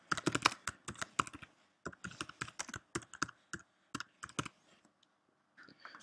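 Keys clatter on a computer keyboard as a post title is typed in WordPress, in quick bursts of close, crisp clicks separated by short pauses, with no voices.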